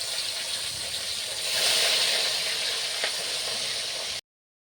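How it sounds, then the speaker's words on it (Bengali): Fish goes into a hot wok for a fish curry and sets off a loud, steady hissing sizzle that swells briefly, then cuts off abruptly into silence. "কড়াই গরম হয়ে এসে মাছটা দিয়ে দিলাম।"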